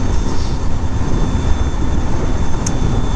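Harley-Davidson LiveWire electric motorcycle on a ride, giving a steady broadband whir and rushing wind noise, loud and constant throughout, with no voices.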